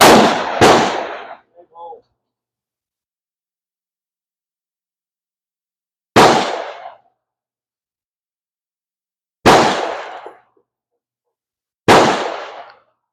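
Rifle shots ring out from a New Englander fitted with a Lyman sight. About five sharp, loud reports come at irregular intervals, each decaying quickly, with long silences between them.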